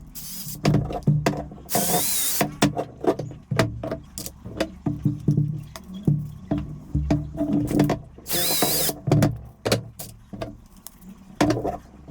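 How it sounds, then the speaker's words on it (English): A power drill bores holes into the leg of a 3D-printed plant stand, with short bursts of whirring separated by clicks, rattles and handling noises, close by and with no talk. "drill all the holes needed to attach one part of the dovetail joints directly to the leg"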